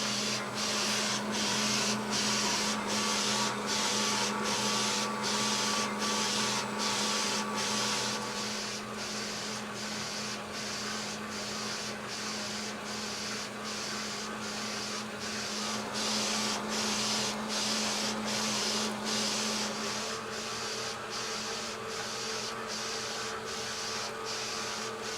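A DTG M2 direct-to-garment printer prints a shirt, its print head sweeping back and forth in fast, evenly spaced passes over a steady motor hum, close and continuous, with no talking.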